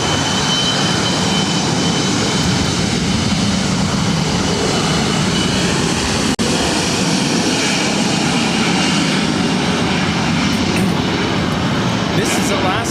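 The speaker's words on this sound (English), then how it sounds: "This is Alaska SkyWest 3329, taking off to San Francisco on an E-175." A SkyWest Embraer E-175 jet takes off at LAX bound for San Francisco, its loud engine roar steady and broadband throughout, with a voice talking over it.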